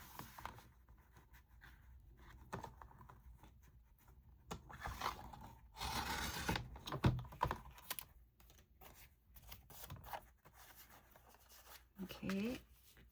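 Paper being cut with scissors for a small sketch, a run of soft snipping and scraping strokes up close, with someone speaking in between.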